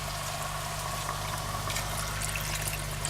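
Beef bouillon and water poured into a pot for a traditional one-pot pot roast, a steady liquid splash and trickle running the whole time, close and even, with no talking over it.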